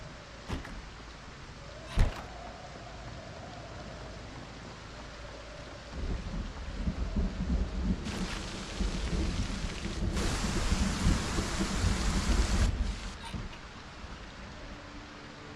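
Thunderstorm and rain in the video game Project Zomboid: a steady wash of rainfall with a sharp thunder crack early on. Heavier surges of rain build and swell toward the end, with no talking.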